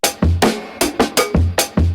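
A chopped drum break sample, EQ-processed to tame its presence, plays as a punchy sequence of kicks and snares with crisp, bright hits in a quick rhythm over about two seconds, with no voices.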